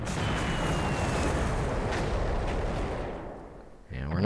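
Torpedo explosions in the War in the Pacific video game merge into a dense, roaring burst of blasts that fades away, followed by a brief faint sound at the end.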